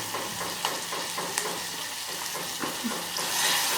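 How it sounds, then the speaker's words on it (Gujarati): Soft, steady sizzling of fenugreek greens and peas sautéing in a pan with a little water, light repeated stirring scrapes throughout, fairly close and moderately quiet. "એક મિનિટ સુધી આપણે શાંતળીએ"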